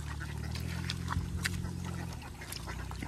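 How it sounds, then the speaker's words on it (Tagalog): A flock of itik ducks is herded near a rice field, giving a continuous low chorus of quacking and murmuring calls under a steady outdoor background at moderate distance. "Ngayon ay magpapastol na naman tayo ng itik."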